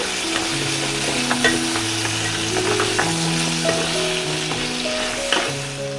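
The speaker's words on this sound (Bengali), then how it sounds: "আমি এখানে কাঁকড়াটাকে ভাজা চাপিয়ে দিয়েছি কাঁকড়াটা প্রথমে একটু ভেজে নিচ্ছি" Crab fries in a pan with a constant, close, crackling sizzle and occasional stirring knocks, with background music running underneath.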